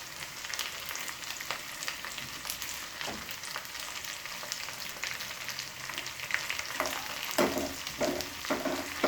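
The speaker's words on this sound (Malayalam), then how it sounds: "ഇതൊരു ഗോൾഡൻ ബ്രൗൺ ആവണ വരെ നമുക്കൊന്ന് ഇളക്കി കൊടുക്കാം." Curry leaves fry in hot oil in a pan for a chilli-gravy curry with a steady crackling sizzle, broken by scraping stir strokes that grow busier toward the end.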